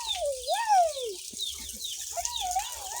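Chickens clucking and calling close by outdoors, a few rising and falling vocal calls with short gaps and light background noise between them.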